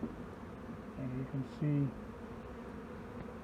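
Honey bees buzz in a hive box on a bee farm, short tonal drones rising near the midpoint over a faint hum, with someone speaking briefly.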